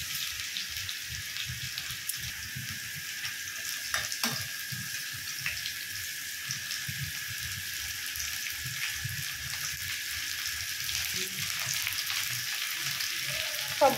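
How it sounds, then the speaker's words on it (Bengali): Chopped beans, carrots, onion and chili fry together in a pan, a steady bright hiss of sizzling oil with occasional stirring knocks throughout. "এবার ভালো করে ভাজা করে নেব"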